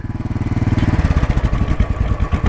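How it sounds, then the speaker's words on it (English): A motorcycle engine idles and runs up close on a ride through Normandy, a loud, steady throbbing chug with pulsing exhaust beats and no talk over it. "Let's put a cheeky spin on Naim's bike for a minute"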